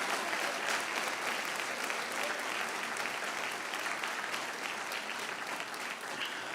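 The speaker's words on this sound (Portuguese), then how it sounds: "Aplauda forte." A church congregation applauding loudly, a dense, continuous wash of clapping that stays strong and even throughout.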